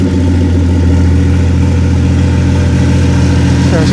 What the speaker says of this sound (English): Yeah, so it starts up no problem.